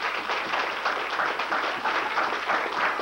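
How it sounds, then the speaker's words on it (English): Steady, dense applause from a church congregation fills the whole stretch at an Assembly of God Christmas service in 1990, many hands clapping together close by without a break. "give them another hand clap"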